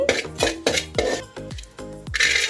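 A spoon scrapes and clanks against a pan as turmeric and chilli powder are stirred into frying lentils, with about five rhythmic strokes close up over a faint background sizzle.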